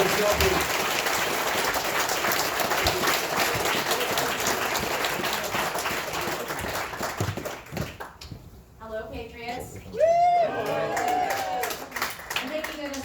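A university audience at ASU applauds a guest speaker in a sustained, even burst of clapping for about eight seconds; it then fades and a voice starts speaking over a quieter room.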